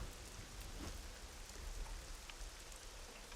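Steady rain in the survival game SCUM, a dense, even hiss of falling drops and pattering on surfaces that holds at the same level throughout, with no voices.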